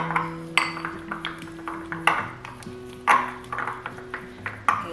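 Honey and coconut oil stirred together in a bowl with a wooden or plastic utensil, giving a series of light clinks and knocks in an irregular rhythm, close and fairly quiet.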